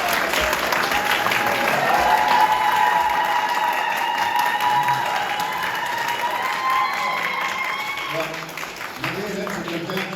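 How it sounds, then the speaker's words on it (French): Audience applauding Marie-Hélène before her dance at a conference in Annemasse, dense sustained clapping with some cheering and a voice over it, tapering slightly near the end. "Et déjà, applaudissez-la"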